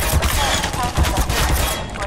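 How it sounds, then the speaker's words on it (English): Machine gun fire in the video game Half-Life 2, a dense run of rapid, loud shots filling the whole clip, with a few heavier thumps among the bursts. "Hey, got machine guns."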